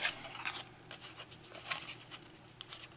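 Paper is folded accordion-style, giving soft, quiet crinkles and scrapes in short repeated strokes, close by with no talk.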